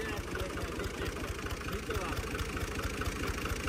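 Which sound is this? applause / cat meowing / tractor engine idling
tractor engine idling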